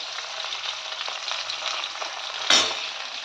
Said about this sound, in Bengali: এখানে দেখো মাছগুলোকে ভাজা বসিয়েছি